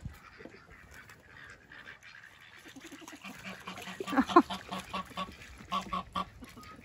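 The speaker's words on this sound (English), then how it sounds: "Come on, Quacky Gang." A group of ducks quacks outdoors, starting sparse and faint, then building into a cluster of louder, overlapping calls toward the end.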